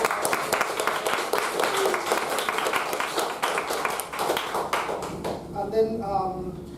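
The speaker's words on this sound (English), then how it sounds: "Let's give a big round of applause to Samiksha." At a Toastmasters-style club meeting, an audience claps for a speaker in a dense, steady round of applause that fades out near the end, and a voice speaks over the final moments.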